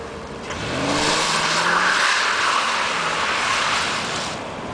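A Ford Crown Victoria drifts with its engine revving, rising tones swelling into loud tire squeal and skidding that fade as the car moves on.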